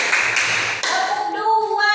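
Children in a classroom clapping game clap hands together in a few quick bursts, close and fairly loud, with voices calling out over and after the claps.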